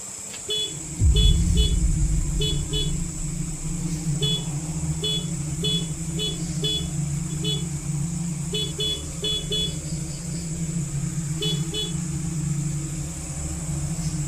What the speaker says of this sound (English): His motorcycle, left parked just a short distance away, suddenly switches on without anyone near it